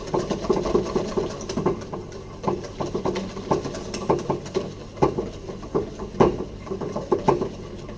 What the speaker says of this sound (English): I am whisking vigorously, I'm not stirring